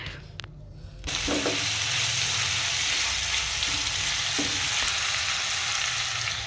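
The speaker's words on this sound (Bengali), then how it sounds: "আর এই যে আমি এখন আলু ভাজা করছি" Potatoes fry in a pan with a dense, continuous sizzle. It starts abruptly after a quieter first second, then holds loud and steady with faint clinks of stirring.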